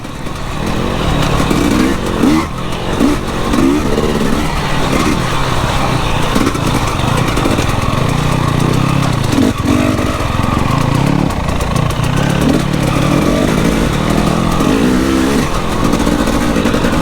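An enduro motorcycle engine drones loud and close on a muddy, slippery trail in Wales, holding a rough, continuous buzz with small surges of throttle throughout.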